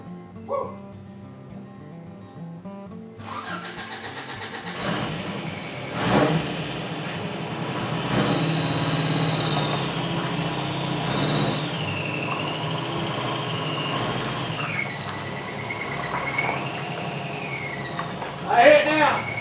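A worn-out old car engine runs with a squealing, whining fan belt whose pitch wavers up and down over a steady engine rumble, while people talk nearby.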